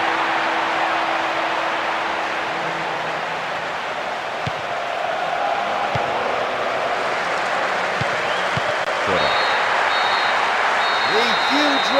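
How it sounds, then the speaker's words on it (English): Stadium crowd roar from the PES 2008 football game on PS2, a broad, steady wash of cheering that holds loud for the full stretch as the referee's final whistle goes, with a faint whistle-like tone near the end. "The huge roar from the crowd as the referee blows the final whistle."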